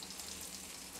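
Vegetable vadis sizzle steadily in hot oil on a tawa, a soft continuous frying hiss with no voices.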